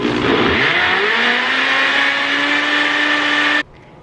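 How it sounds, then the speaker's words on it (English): A countertop blender whirs steadily at high speed, blending nuts with cold water for nut milk, with a rising motor pitch early on, then cuts off abruptly near the end. "I'm gonna have to blend her twice"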